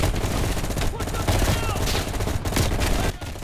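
Continuous rapid gunfire in the video game Call of Duty Black Ops Cold War, dense sustained bursts with brief gaps, loud and close, with a voice calling out over the shooting.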